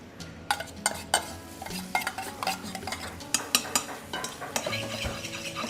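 Onions sweating in butter in a pan, gentle sizzle broken by repeated clinks and scrapes of a spoon against the pan, close and moderately loud with faint background noise.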